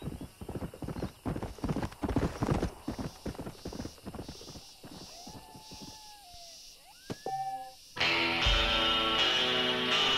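In the western game Red Dead Redemption, horse hooves clop rapidly and close, a horse neighs, and then louder game sound rises at the end.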